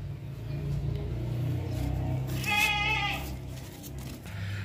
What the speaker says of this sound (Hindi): ये बकरा देखें माशाल्लाह, बहुत ज़बरदस्त बकरा है